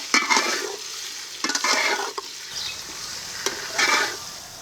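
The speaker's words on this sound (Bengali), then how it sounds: "টমেটো কুচি এখন মাংসটাকে ভালো করে কষিয়ে নেব" Chicken pieces with chopped tomato frying in a pot for eid special chicken dum biryani, a continuous sizzle broken by several close, vigorous stirring scrapes in uneven bursts.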